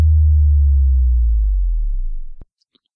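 A deep, low 80 Hz sine tone subdrop, slowed down, booms and slowly sinks lower in pitch over about two seconds, then cuts off abruptly, followed by near silence.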